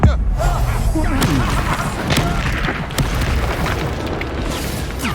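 Confringo spell blasts in the Hogwarts Legacy video game, a series of loud booming explosions and sharp bursts layered over a dense battle din, with a player calling out spells.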